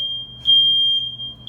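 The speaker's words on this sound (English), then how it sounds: "When a smoke detector that goes off in the bedroom goes off" A bedroom smoke detector sounds a loud, unbroken high-pitched tone that holds steady without pausing, heard close and alone.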